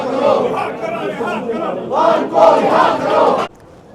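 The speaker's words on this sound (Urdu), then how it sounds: "عمران خان کی رہائی کے نعرے لگائے جا رہے ہیں" A crowd chants slogans demanding Imran Khan's release outside the locked gates of Pakistan's parliament, many voices shouting together loudly in rising and falling bursts that cut off abruptly near the end.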